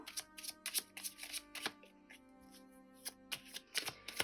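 Tarot cards are shuffled close by, with quick papery riffles and bursts of flicking coming in uneven clusters and a short lull in the middle. The sound is fairly quiet and has no talk over it.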